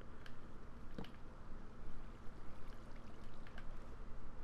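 Flowing water in the Minecraft video game produces a continuous soft rushing and gurgling wash, steady and fairly quiet, with no voices.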